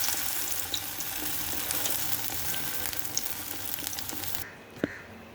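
Garelu, lentil fritters, sizzle steadily in hot oil, a dense close crackle that holds for several seconds before cutting away to a quieter moment with a single small clink.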